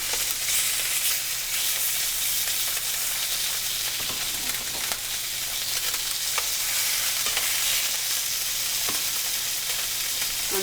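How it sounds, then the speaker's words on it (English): Salmon fillets frying in hot oil in a pan give a constant, even sizzle with occasional small pops and crackles, close and unbroken throughout, with no voices. "Then you can take your piece of fish and you can lay them into the pan."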